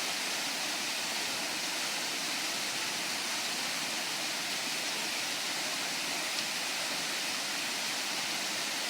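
Steady, full rushing roar of a waterfall on the Royal National Park coastal track, where people are jumping off it; broadband water noise continues evenly without break and no talk is heard.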